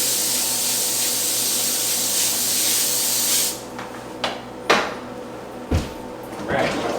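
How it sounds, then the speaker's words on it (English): Cooking spray hisses onto a foil-lined pan in a home kitchen in one continuous spray, followed by a few sharp clatters and knocks of pans and utensils. "Get some spray on there."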